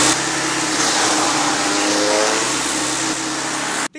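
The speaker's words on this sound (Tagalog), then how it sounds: "gaano po kalakas ang ating shredder machine" A shredder machine grinds a coconut palm leaf, giving a loud, steady motor roar with broadband grinding noise that holds for several seconds, then cuts off abruptly near the end.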